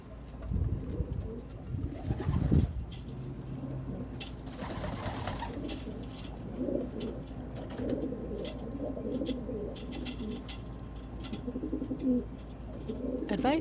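Rock pigeons (Columba livia) cooing in soft, low repeated calls against a steady background hum, with a few wing flutters and faint chirps mixed in.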